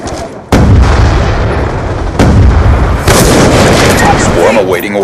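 Grenade blasts in a video game shooter: several loud, sharp booming explosions with rumbling tails, one near the start and more later, among ongoing battle noise and game voices.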